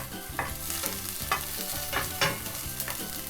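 Onions browning in a frying pan for a homemade wrap, a steady close sizzle with repeated sharp scraping stir strokes every half second or so, alone without talk.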